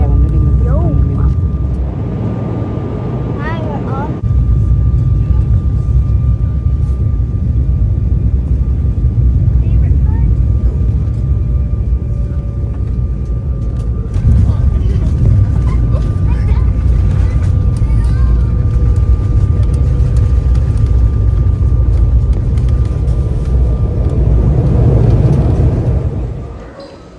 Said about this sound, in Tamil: லேண்டிங்கில் இருந்தே வந்து கேப்சர் பண்ணலாம் அப்படின்னு சொல்லிட்டு இந்த வீடியோவை எடுத்தோம்